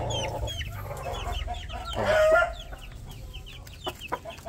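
Roosters on a gamefowl farm cluck close by, and one crows loudly in the middle of the clip, with more scattered clucks and chirps before and after.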